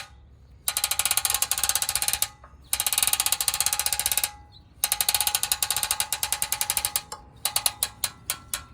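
A 1950s Sears Roto-Spader tiller being cranked over by hand, giving several bursts of rapid mechanical clicking and ratcheting, each lasting a second or two with short pauses between, close and fairly loud.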